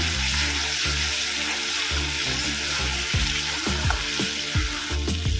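A cashew-raisin paste for doi pabda fries in a pan while it is stirred, giving a loud, steady sizzle with repeated scraping strokes of a spatula, close up.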